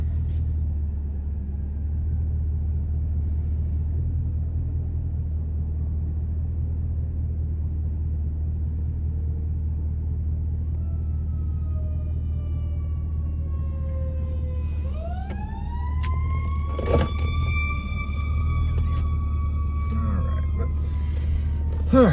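Emergency vehicle sirens wail past outside a gym, rising in and sweeping by over a constant low rumble of traffic and machinery, growing louder toward the end.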